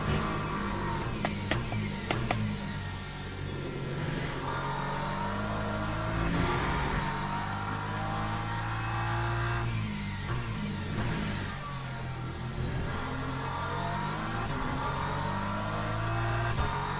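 Race car engine in the Le Mans Ultimate sim racing game, revving steadily with rising and falling harmonic sweeps as it pulls along straights, loud and continuous with no talk.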